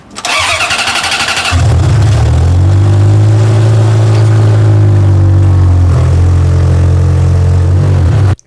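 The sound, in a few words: Ferrari F355 car engine revving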